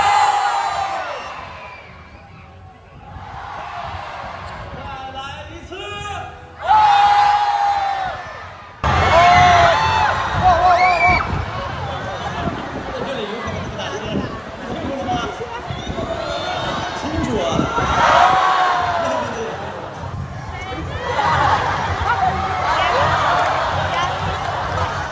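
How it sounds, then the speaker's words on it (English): An audience of several thousand in a huge theater at Universal Studios Beijing whoops and cheers during a crowd warm-up before a theme park show, with a loud announcer talking over the crowd throughout. "And it all starts with a little warm-up of the crowds."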